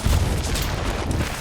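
A powerful gunshot from the video game Soulslinger: Envoy of Death, a deep booming report with a heavy low rumble that lingers briefly and fades, with no talk over it.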